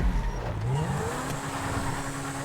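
A race car engine in GTA 5 revs and accelerates with a rising whine and a faint tire squeal, loud and close, with no voices.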